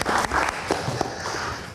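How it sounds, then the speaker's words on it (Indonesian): Audience applause for a talk-show guest, a short, fairly dense burst of clapping that fills the whole moment at moderate loudness. "Kita berikan tepuk tangan yang paling meriah untuk Elo."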